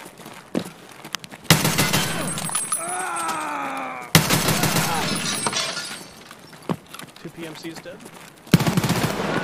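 Loud close gunshots and bursts crack out during an Escape from Tarkov raid on the Interchange map, with sharp impacts and debris clatter between them, while a voice speaks briefly over the firefight.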